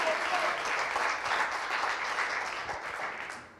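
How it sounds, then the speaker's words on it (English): Sustained applause from an audience, steady clapping that slowly fades toward the end, with a few voices mixed in. "Again, a big round of applause."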